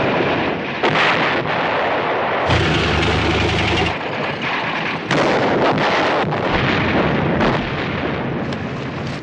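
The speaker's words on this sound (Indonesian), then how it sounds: "meriam berhasil tepat sasaran dan menghancurkan satu bunker tentara Jepang." Tank cannon fire and a shell exploding on a Japanese bunker in an American-versus-Japanese war film, a continuous loud barrage of booming blasts and rumbling detonations, heard alone with no talk.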